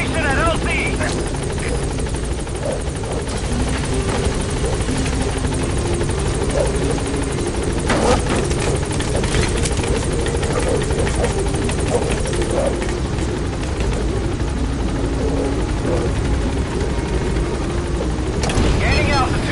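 A support helicopter hovers at a landing zone in Metal Gear Solid V: The Phantom Pain, its rotor drone loud and steady throughout, while a pilot talks over the radio on top of it.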